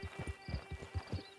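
Horse hooves clip-clop at a steady walking rhythm in the Red Dead Online game, a series of soft, regular thuds at moderate distance under a faint background.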